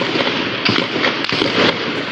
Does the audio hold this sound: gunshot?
yes